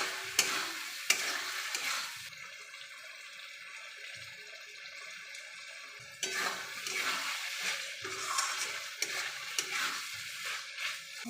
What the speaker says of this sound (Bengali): এবার আমি খাসির চর্বিগুলো দিয়ে দেবো। এটার সাথে ভালো করে কষিয়ে নেব।